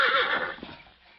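A white horse whinnies close and loud in an old-time radio drama, a single neigh that fades out over about a second, with no talk.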